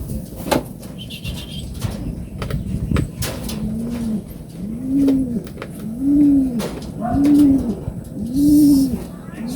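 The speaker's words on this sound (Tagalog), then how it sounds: "Dumating na dalawang live natin mga kalapatids." Racing pigeons back from a derby race in Ilocos Sur coo in a steady series of five or six rising-falling calls, close by, over background clatter and faint voices.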